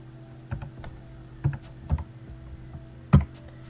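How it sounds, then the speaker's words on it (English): Slow, sparse typing on a computer keyboard, a handful of distinct key presses with gaps between them, close and clear over a quiet background. "now I'm slow at typing"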